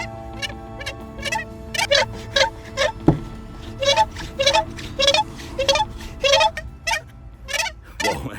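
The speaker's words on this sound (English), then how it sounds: "between the hand and the wood we have to have a lot of friction because the friction starts to produce vibration" Wet hands rubbing along a cut wooden board produce a run of short, rising squeaky chirps like a bowed violin, about a dozen rhythmic strokes, loud and close, with one sharp knock midway.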